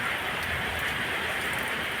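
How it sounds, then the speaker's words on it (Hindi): Heavy rain pours down steadily, a dense, even hiss of countless drops striking surfaces close by, constant and loud throughout without pauses. "और बहुत ज़्यादा बारिश हो रहा है"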